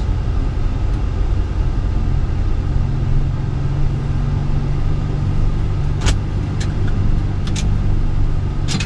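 A car driving along a road toward a neighbouring village, giving a constant loud low rumble of engine and tyre noise with a few short clicks near the end.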